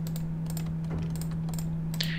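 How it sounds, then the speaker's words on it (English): A ladder being climbed in Minecraft gives a run of light, clicky wooden taps over a steady low hum, with no voices. "Sounds like someone's using a ladder."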